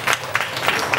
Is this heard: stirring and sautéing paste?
no